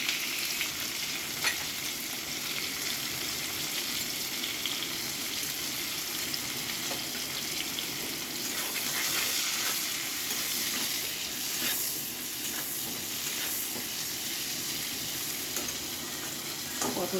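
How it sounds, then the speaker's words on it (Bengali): Potato and pointed gourd pieces frying over medium gas heat with salt and turmeric, a loud, steady, close sizzle with a hissing texture and occasional stirring crackles throughout. "তরকারিটা সামান্য একটু নুন হলুদ দিয়ে ভেজে নেব।"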